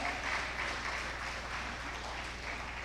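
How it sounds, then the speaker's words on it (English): A conference audience at an investment session applauds after a speech ends, a soft, even, continuous patter of clapping heard from a distance throughout. "I thought you would make that applause much better."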